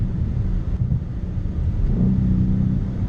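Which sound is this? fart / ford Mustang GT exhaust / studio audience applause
ford Mustang GT exhaust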